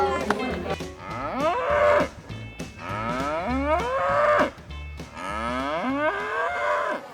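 Cattle at a Wild West livestock setting low repeatedly, three or four long drawn-out moos one after another, loud and close, with no talk.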